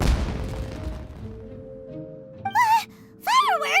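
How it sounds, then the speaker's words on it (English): A firework bursts in the video game Genshin Impact as a booming crack that decays into a fading rumble. About two seconds later, a character's voice twice lets out short, pitch-swooping exclamations. "It sounded like fireworks."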